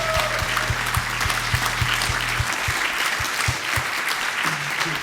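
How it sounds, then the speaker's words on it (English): A festival crowd applauds for everyone: a dense, steady wash of clapping that fills the whole moment, with a faint low hum underneath, then tapering slightly toward the end. "let's just have a massive round of applause for everyone"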